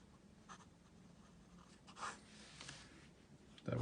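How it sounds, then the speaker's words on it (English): Lamy AlStar Bronze 2019 special edition fountain pen nib scratching faintly across paper in short strokes, quiet and close, ending with a louder bump. "That was me angling the nib in weird ways"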